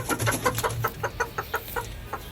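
A flock of hens with one rooster at a backyard coop, clucking in a rapid, uneven series of short calls close by, with no one speaking.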